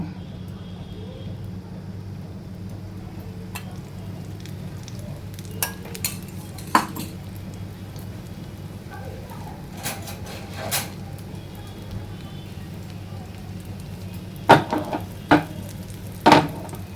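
A dosa frying in oil on a pan, a low, quiet sizzle under scattered clicks and scrapes of a utensil, with a few sharper taps near the end.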